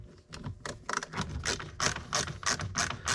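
A Snap-on or Blue Point ratchet wrench clicks rapidly in quick bursts of sharp pawl ticks, close and fairly quiet, while loosening fasteners during a MINI Cooper R56 radio swap.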